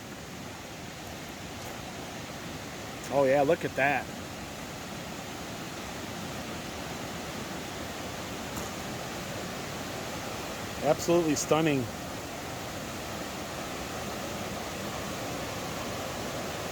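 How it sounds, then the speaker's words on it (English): A small waterfall on a mountain stream in the Great Smoky Mountains, running high after rain, makes a steady, broad rushing roar throughout, with a person speaking briefly over it twice. "It looks like there's a beautiful little waterfall down here."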